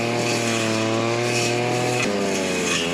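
A Mizufuji 2.5 hp two-stroke brush cutter fitted with a 16-inch blade runs loud and close, a high buzzing whine that drops sharply in pitch partway through as the load changes.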